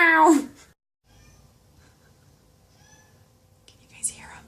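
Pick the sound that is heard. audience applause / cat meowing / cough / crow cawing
cat meowing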